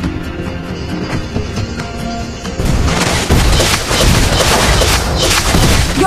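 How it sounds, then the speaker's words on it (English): A turret is destroyed in Mobile Legends: Bang Bang, setting off a loud, dense burst of booming explosion noise that starts partway through and holds steady over game music. "Your team destroyed a turret."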